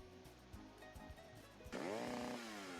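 A chainsaw attack in the Fishing Maniacs tower-defense game starts with idle sputtering and knocks, then revs up into a loud, sustained buzzing whine; no one speaks.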